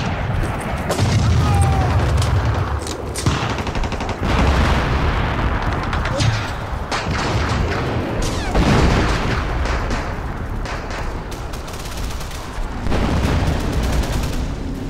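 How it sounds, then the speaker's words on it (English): Sustained artillery and gunfire bombard German infantry in the World War II strategy game Men of War, with dense overlapping booms, blasts and rattling shots rolling continuously at steady loudness with no pauses. "I'm going to try and continue to suppress the German infantry with artillery."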